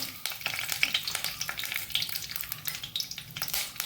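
Mustard seeds and curry leaves sizzle and crackle in hot ghee and oil, with rapid close popping spatters and a bright frying hiss, no speech.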